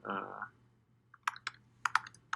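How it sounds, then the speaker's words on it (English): Bursts of typing on a computer keyboard during an assistive-technology-for-learning demonstration, with several distinct key clicks in an irregular rhythm, close and fairly quiet, following a short voiced sound at the start. "But I'll just type some words on here"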